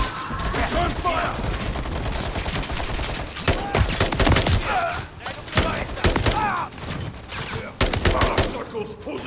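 Dense gunfire from the Call of Duty: Modern Warfare campaign plays as rapid automatic bursts and loud shots, nearly continuous, mixed with voices shouting in combat.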